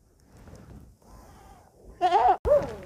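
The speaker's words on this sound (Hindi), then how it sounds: "छोटी छोटी बकरी कितनी प्यारी है।" Small goats on a farm in Pokhara, Nepal, giving two loud, close, wavering bleats in quick succession after a quieter stretch of faint background murmur.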